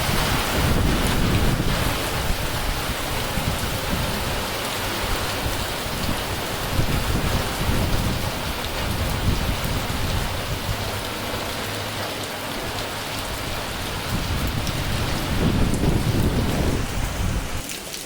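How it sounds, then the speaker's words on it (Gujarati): Heavy rain pours down steadily and loudly, a dense roar of drops with gusty wind buffeting the microphone throughout. "ફક્ત એક મિનિટમાં કેટલો વરસાદ આવ્યો જોઈ શકો છો"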